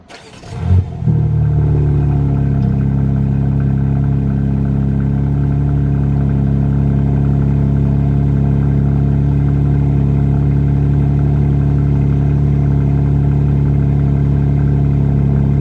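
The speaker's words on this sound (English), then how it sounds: "Now I'm gonna actually do a cold start with Sport Plus just so you can hear it." A 2025 BMW M3 with the six-speed manual, started cold in Sport Plus: a brief starter whir and loud catch, then a steady, deep, loud idle held close with no revving.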